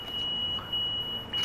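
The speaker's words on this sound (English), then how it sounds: "Beep beep to you too." Repeated electronic beeps, a steady high tone sounding in three segments with short gaps, heard over low background rumble inside the train simulator game Train Sim World 3.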